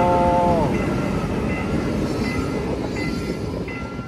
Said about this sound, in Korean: 열차 지나갔습니다.